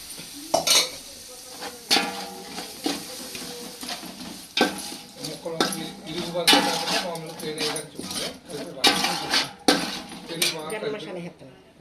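A large batch of chicken dum biryani mixture with chilli powder is stirred in a pot with a metal spoon: repeated scraping clanks against the pot over a constant sizzle, with occasional voice in the background.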